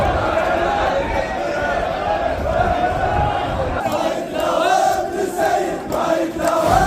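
Angry protest crowd at the Swedish embassy shouts and chants continuously, a loud, dense roar of many voices with surging rises in the second half.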